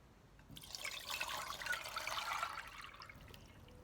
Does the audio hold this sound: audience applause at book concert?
no